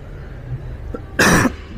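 A single short, sharp cough, close and loud, breaking through an otherwise quiet room.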